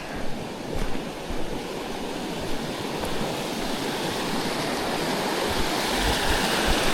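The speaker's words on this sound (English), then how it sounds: "Let's see what the river looks like." A mountain river in the LeMoray area near Pine Pass flows with a steady, broadband rushing roar that stays even and close for the whole stretch, with no voices.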